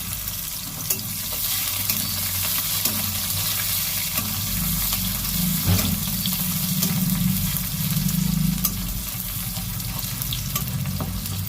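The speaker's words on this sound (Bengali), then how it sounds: "পেঁয়াজটা লাল লাল করে ভেজে নেব।" Onions fry in hot oil with nigella seeds for a bhetki fish dish, giving a loud, steady, close sizzle that runs unbroken throughout, with occasional stirring and no talk.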